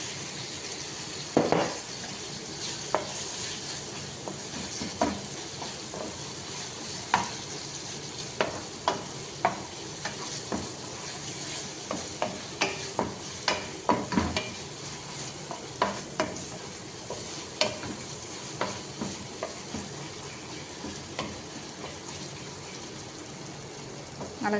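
Ginger and spices sizzle in a pan for chicken curry, a soft continuous frying hiss broken by sharp scraping stirs at irregular intervals.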